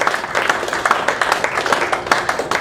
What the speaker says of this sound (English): Can you join me in thanking our presenters by giving them a round of applause?